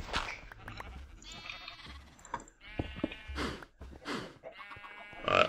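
Sheep in Minecraft bleat several times in short, nasal calls scattered across the stretch, mixed with clicks and small game sounds, moderately close with no talking.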